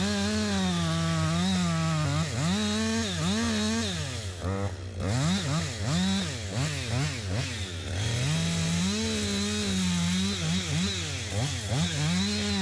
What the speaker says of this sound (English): it's a real nice, small, nimble little chainsaw for this kind of work